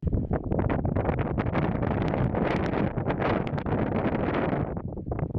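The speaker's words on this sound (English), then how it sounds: "I'm actually getting more and more confident about it in the wind now, because it's got a fair rattling" Strong gusts batter a low-profile Nortent Vern 1 tent at a wild camp. The fabric rattles and flaps loudly in close, continuous bursts, with rough buffeting from the wind throughout.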